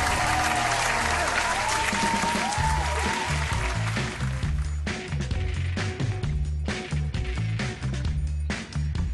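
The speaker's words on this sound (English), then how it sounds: "Let's have a round of applause for them." A crowd breaks into a round of applause, loud and dense at first with whoops, then thinning into scattered clapping while a rhythmic beat continues underneath.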